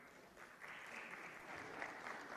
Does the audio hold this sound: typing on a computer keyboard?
no